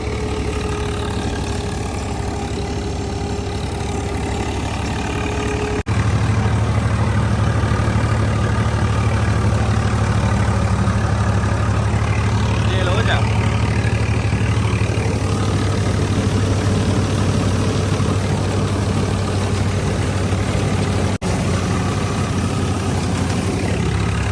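A Swaraj 855 tractor working a Jagjit straw reaper in fourth gear, a loud continuous heavy diesel drone that steps up in load partway through and holds steady with no speech.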